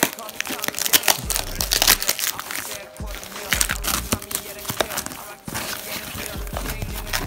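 Sharp crinkling and ripping of thick packing tape and cardboard in quick, uneven bursts while unboxing car door panels, close by, with brief pauses between pulls.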